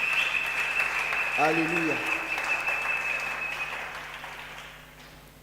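A church congregation at a French-language service claps and cheers in praise, dense applause filling the room as a voice calls out over it, then gradually fading toward the end.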